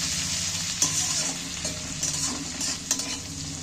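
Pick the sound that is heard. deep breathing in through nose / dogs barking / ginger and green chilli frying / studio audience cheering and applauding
ginger and green chilli frying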